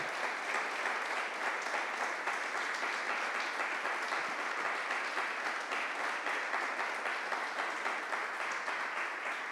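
A church congregation applauds during a sermon on First Timothy, sustained dense clapping filling the room evenly for several seconds, without talk.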